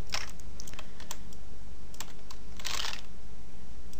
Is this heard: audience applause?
no